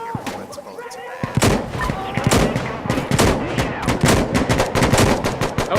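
Rapid automatic gunfire and sharp single shots in Insurgency: Sandstorm, dense overlapping bursts close by, with voices talking between the shots.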